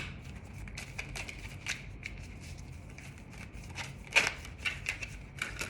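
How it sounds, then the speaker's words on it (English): Tarot cards being shuffled by hand, a soft, quiet papery riffling with a few sharper flicks and snaps toward the end, close and alone without talk. "I shuffled these cards so hard and the same card still came up."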